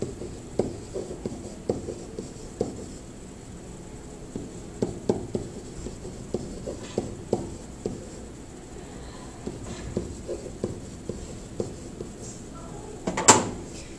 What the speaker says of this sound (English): write this down in your notes as I'm writing it